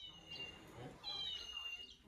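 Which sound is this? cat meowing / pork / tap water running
cat meowing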